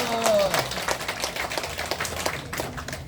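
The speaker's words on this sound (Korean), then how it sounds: "큰 박수로 모시겠습니다" A church congregation at a morning prayer meeting claps to welcome an elder to the front, a brief burst of applause that starts loud and settles, with voices mixed in.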